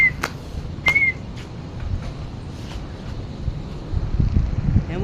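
Steady wind rushes and buffets the microphone, with a couple of brief high whistles standing out early on.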